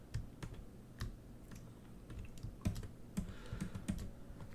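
Computer keyboard keys, including Shift, pressed in a series of sharp clicks at an irregular pace, close by and alone with no voice, during a ZBrush sculpting lesson.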